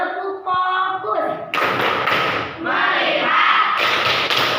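Primary school class in Indonesia doing a rhythmic focus clap, loud sharp bursts of clapping and thumps in unison following a short spoken cue, with children's voices chanting along.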